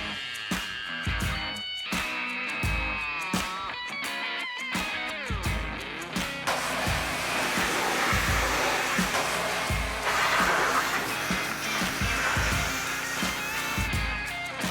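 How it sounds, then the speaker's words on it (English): A pressure washer blasts sunburned clear coat off a car in a garage. Its steady, loud, hissing spray runs for most of the stretch, with sharp clattering knocks and bangs early on. "I'm gonna get out the pressure washer and try and blow off all of this disgusting sunburn clear coat"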